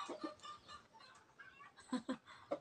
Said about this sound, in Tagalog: Oh, the chicken.